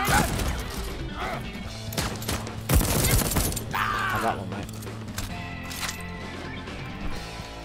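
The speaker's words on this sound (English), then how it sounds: "That's a turret." Turret gunfire in the video game Deathloop, a loud burst of rapid shots and crashing impacts amid busy in-game combat noise, with scattered sharp bangs continuing after.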